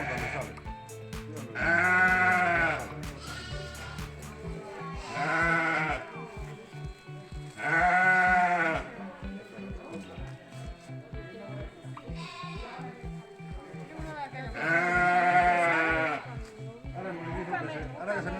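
Sheep at a shepherding school bleat loudly in several long, wavering calls spread across the clip, with a steady ticking and a voice speaking underneath.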